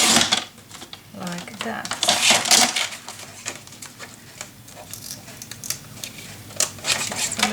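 Paper being cut for a Peter Rabbit themed mini album, with crisp snips, rustling and crinkling handled close up in uneven bursts, and a brief spoken phrase in between.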